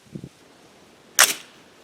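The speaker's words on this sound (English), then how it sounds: "Lock the bolt back." A rifle bolt chambered in 300 Blackout is locked back at a reloading bench, giving one sharp, bright metallic clack, preceded by a faint double click.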